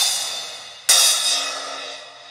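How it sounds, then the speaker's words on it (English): Accent splash cymbals from a vintage 1929-30 Leedy drum set, struck twice in quick succession: a bright, shimmering crash that fades, then a second hit that rings out more slowly, with no voices over it. "These two are splash cymbals, again, accent cymbals."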